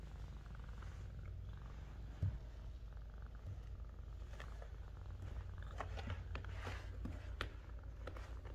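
A cat purrs steadily and close, a low continuous rumble lasting the whole stretch, with a few faint soft bumps and no talking.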